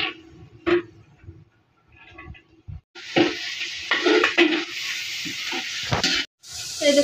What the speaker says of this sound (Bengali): এই দেখুন আমাদের সবজি ভাজা হয়ে গেছে,